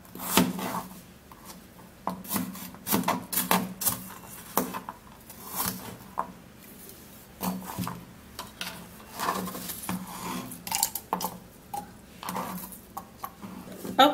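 Knife cutting through apple and garlic in a home kitchen, a series of light irregular chops and taps on a board, close and moderately loud with no talking.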